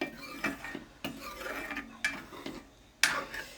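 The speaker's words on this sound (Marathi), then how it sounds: "आता मी याला हलवून घेते" Vegetable dish with salt added is stirred in a pot on a stove, with several distinct scraping clinks of a spoon against the metal at a steady pace, close and moderately loud, with no talking.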